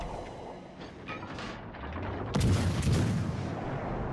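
Naval guns fire at a ship in a warship battle game, a deep rumbling boom rolling in near the middle over steady engine and water noise, with no talk.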